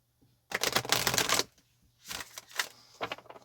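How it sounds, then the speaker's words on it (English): Tarot cards being shuffled in a riffle burst, then a few shorter bursts of flicking and riffling, close and fairly quiet, with no talking. "All right, let's get one more shuffle"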